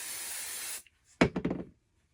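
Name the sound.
spray adhesive sprayed onto fabric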